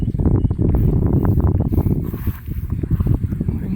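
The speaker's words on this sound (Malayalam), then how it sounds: "ഭയങ്കര കാറ്റടി ഭയങ്കര കാറ്റ്" Strong wind on a fishing outing buffets the microphone in loud, rumbling gusts, with a low churning roar like water moving beneath.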